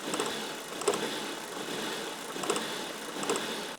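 A Volvo S60R engine idling rough with a misfire after a timing job, a low steady rumble with uneven periodic stumbles and knocks recurring about every second and a half.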